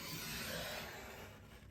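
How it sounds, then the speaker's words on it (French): Paper sheet being cut along two drawn lines with a craft blade while making a cube photo holder, a steady close scraping rasp that fades slightly toward the end, with no talk. "je découpe entre les deux traits que je viens de faire"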